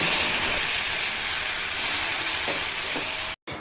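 Hot oil sizzling loudly as sambar is tempered, a dense, even hiss close by that holds steady for several seconds before cutting out abruptly near the end, with no voices.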